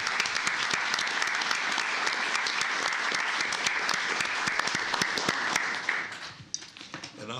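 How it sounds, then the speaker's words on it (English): An audience at a Tarrant County commissioners court meeting claps in sustained, dense applause that stays even for several seconds before thinning out into a few scattered claps near the end. "Give yourselves a round of applause."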